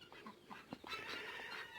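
Poultry calls from a backyard flock of ducks and geese at night, several short honks and squawks scattered close by over a low background, with a louder cluster midway.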